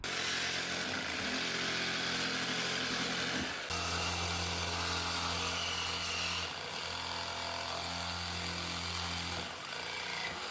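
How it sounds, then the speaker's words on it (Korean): A hand grinder whines loudly and steadily as it cuts the threaded ends off a steel pipe, with brief dips between passes during a plumbing leak repair. "커팅은 핸드 그라인더를 사용하시거나 컷서를 사용하실 수도 있겠습니다."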